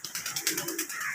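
A sick pigeon with phlegm from a cold makes a quick run of close, rhythmic, raspy coughing bursts, heard alone.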